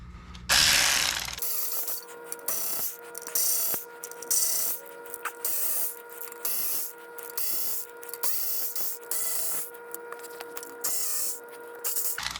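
A ratchet loosens transmission pan bolts under a car, rapid clicking bursts repeated in short bouts with brief pauses between, close and fairly loud, after an opening burst of noise.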